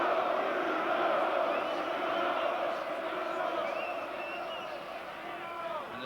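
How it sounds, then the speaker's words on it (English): A boxing crowd at Wembley Arena, a dense, roaring wall of cheering voices and shouts that holds steady and eases slightly, with a commentator's voice on top. "The cheers coming already from this Wembley arena"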